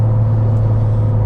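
Steady low hum of an air-cooled Porsche 993 911 cruising at about 40 mph, an even engine drone with road rumble and no voices.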